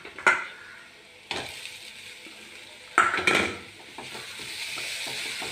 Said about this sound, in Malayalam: നമ്മൾ ചിക്കനെ ഇട്ട് ഇളക്കുന്നുണ്ടേ.